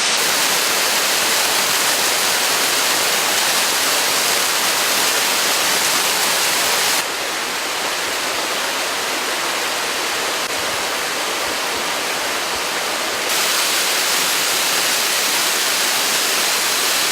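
A large waterfall, partly frozen after nights of cold near minus 20 degrees, roars in a loud, steady broadband rush with no break. The level shifts briefly partway through.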